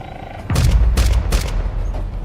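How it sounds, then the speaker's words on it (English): Gunfire strikes an armored train in a Minecraft nuclear-winter world, a sudden loud burst of booming shots that starts abruptly and keeps rattling in several heavy pulses, with faint voices under it. "Someone's shooting at us?"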